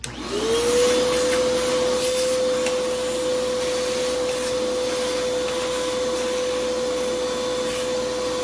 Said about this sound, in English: I have a vacuum cleaner. I just suck all the dust and dirt off the top of it